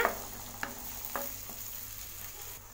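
Onions sautéing in a pan over a low flame for tawa pulao, a soft steady sizzle with a few spoon scrapes and stirs, close and quiet with no talk.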